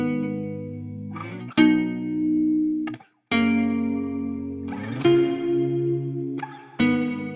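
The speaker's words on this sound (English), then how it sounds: "And now you can hear the reverb." Distorted electric guitar track sent to a reverb return in Ableton Live 10, sustained chords ringing with a washy tail, broken by abrupt strums and one brief drop to silence, no voices.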